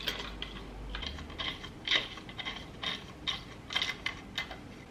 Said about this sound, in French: Et ensuite il y a juste à visser.